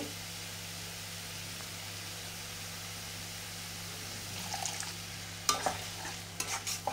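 Spice masala being stirred and fried in a pan after a splash of water, a quiet steady sizzle with faint scraping that picks up into louder stirring clatter and bubbling toward the end.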